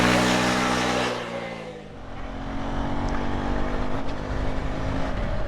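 A Husqvarna Svartpilen 401 motorcycle engine pulls steadily in 5th gear from around 40 to 90, loud and close, with a brief dip after the first second before a sustained drone rises again under wind noise.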